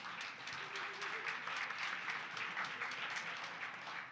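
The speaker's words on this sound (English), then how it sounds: "please give Oric a round of applause" Steady audience applause rings out at a community crowdfunding event honouring a corporate sponsor, a dense wash of many hands clapping at even volume throughout, with a faint voice murmuring briefly underneath.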